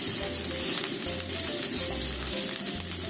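Green peppers sizzle while being stir-fried in a pan, a steady close crackle overlaid by a low rhythmic rumble, with no talking.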